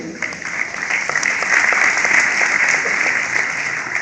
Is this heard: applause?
yes